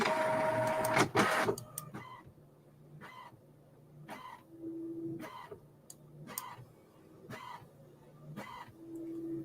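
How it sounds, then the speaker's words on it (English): Cricut cutting machine running at a craft event, a loud burst at the start then repeated mechanical ticks and short motor whirs in an uneven rhythm, fairly close and without talk. "Well, the Cricut's working good."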